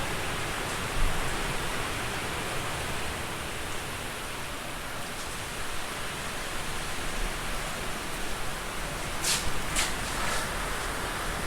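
Heavy British rain pours down steadily outdoors near a car project, a dense, loud, continuous hiss with no pauses and a few sharper bursts late on.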